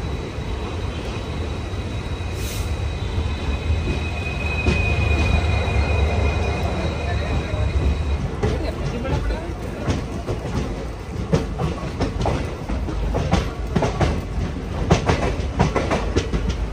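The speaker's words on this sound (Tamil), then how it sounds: "செம்மையாக போயிட்டுருக்கு இல்லைங்க ட்ரெயின்." A Poorna Express train in sleeper class rolls steadily along the tracks, with a constant low rumble, rhythmic wheel clatter and a thin metallic squeal for the first half.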